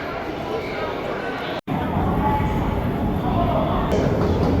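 A metro train on a new line in Hong Kong gives a loud, continuous rumbling roar, steady apart from one abrupt brief dropout, heard from close range.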